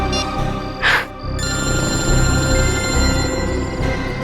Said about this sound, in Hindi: दया सर को फोन लगाता हूँ।